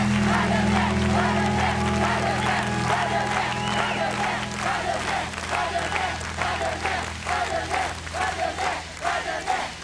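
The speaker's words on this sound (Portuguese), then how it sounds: "Eu quero chamar aqui, para os seus aplausos, Padre André" Audience applause with cheering for Padre André from Barretos at a Catholic gathering: a loud, dense wash of clapping from a large crowd, sustained for about ten seconds with a low hum underneath and occasional voices mixed in.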